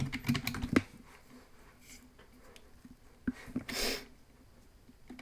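A password being typed on a computer keyboard, heard as a quick burst of close key clicks at the start, then a few scattered taps and a soft rustle, fairly quiet and with no talk.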